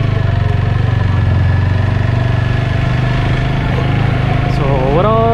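A 2021 TVS Apache RTR 160 4V BS6 motorcycle engine running on a street test drive, with a steady, loud rhythmic thrum, a rising rev near the end, and a voice talking over it.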